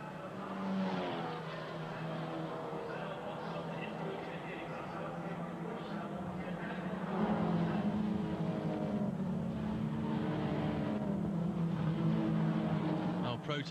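Volkswagen Scirocco R-Cup race cars lapping the Oschersleben circuit, a steady engine drone with a rising tone near the middle, heard under continuous commentary.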